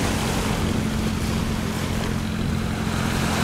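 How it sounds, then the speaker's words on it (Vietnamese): Rough sea waves churn around a small iron boat, a dense continuous roar of surf and wind with a low engine hum underneath, steady throughout and free of speech. "Wow, ngày sóng dữ vậy ta"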